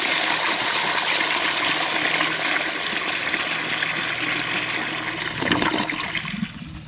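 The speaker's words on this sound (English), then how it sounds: "I guess this is one of the rare instances that you'll need a second flush on one of these" A 1936 Standard Modernus toilet flushes with a loud, close, steady rush of water for several seconds, ending in a gurgling drain and a quieter trickle.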